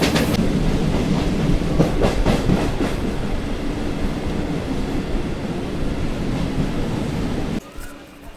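A Howrah–Digha local train rumbles steadily along the rails with rhythmic clatter throughout, loud and close, then the noise drops abruptly near the end.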